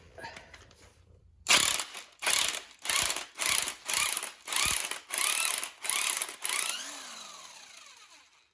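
A ratchet on a Harley Twin Cam engine spins a nut off in about nine quick, loud bursts of clicking, each a short even run, before a faint trailing mechanical whir.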